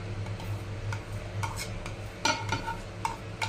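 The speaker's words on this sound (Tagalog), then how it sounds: "Haluan na natin ng kamatis at itong sibuyas na dahon." Kinilaw of small anchovies being mixed with tomato and onion leaves in a bowl, soft wet stirring with light scattered clicks and taps of a utensil, fairly quiet over a low steady hum, with no talking.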